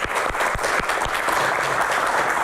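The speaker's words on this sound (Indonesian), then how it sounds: "Tepuk tangan. Terima kasih para panelis." Audience applause for a panel of speakers at a doctors' association Q&A forum, a dense, steady wash of clapping with a few sharp individual claps standing out near the start, sustained and fairly loud throughout.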